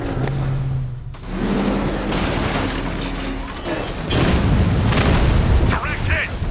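Blast of a tank being hit in Batman Arkham Knight, heavy booming rumble rolling through a dense, noisy battle with lingering crackle, loud and continuous under bursts of voices.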